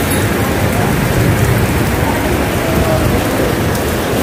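Heavy rain pours down in a loud, constant roar, a dense unbroken hiss of drops hitting surfaces nearby.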